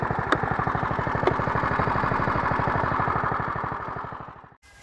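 Small engine on a homemade yard kart idling without choke, a close, loud, rapid even chugging that holds steady and then dies away near the end.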